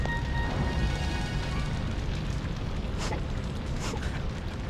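A bar burning in Shadow of Destiny gives off a dense, constant roar of fire with a low rumble, broken by a couple of brief crackling bursts, and no voices.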